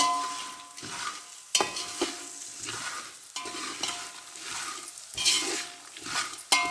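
Raw peanuts are stirred and roasted in a pan for kara pori, with repeated scraping strokes of a spoon against the metal and a light dry rattle, close and steady with no talking.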